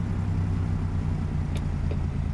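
A Peterbilt 389 truck in American Truck Simulator, fitted with a modded 550-horsepower Cummins ISX engine, rumbles with a loud, continuous low diesel drone that holds steady throughout, with a couple of faint clicks on top.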